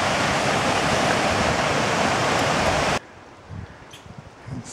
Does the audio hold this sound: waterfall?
yes